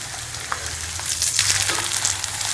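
A keema paratha sizzles and fries in a ghee-coated pan, a steady close hiss with soft scraping as it is turned over, no voices.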